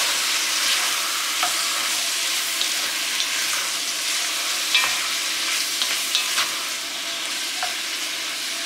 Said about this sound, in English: And give that a little stir.